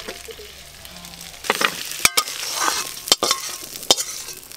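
Ginger, garlic, onion and green chili fry in hot oil with a steady sizzle, broken by several sharp scraping stirs and clanks of a spatula against the pan; no voices.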